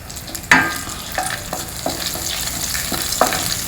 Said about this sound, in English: Fry them also well in the ghee.